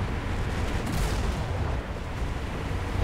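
Naval guns fire in War Thunder with a fast reload, heavy booming blasts that roll into one another to form a loud, thick wall of low rumbling noise throughout.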